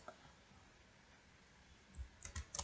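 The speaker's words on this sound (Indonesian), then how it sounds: "teman-teman bisa menekan tombol Ctrl plus Alt plus angka 2 untuk memberikan heading level 2" A few computer keyboard keys pressed together in a quick cluster of soft clicks near the end, after a nearly silent stretch.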